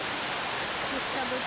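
Grand Cascade at the Peterhof summer palace, a waterfall fed by 64 fountains, gives a steady broadband rush of falling water with faint talk mixed into the wash.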